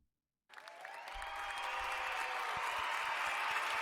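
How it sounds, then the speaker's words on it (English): A canned applause effect cuts in after a short silence and swells into steady, even clapping from a crowd, fairly faint. "Do I have an applause?"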